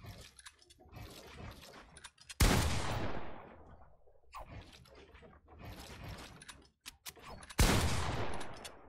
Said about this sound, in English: you have to get a good shotgun shot to actually destroy the whole thing